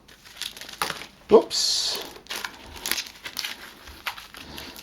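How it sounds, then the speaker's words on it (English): Settlement cards from the Kingdom Death Monster board game are shuffled by hand in a quick crinkly riffle, one loud burst amid surrounding talk. "Give the settlement cards one good shuffle."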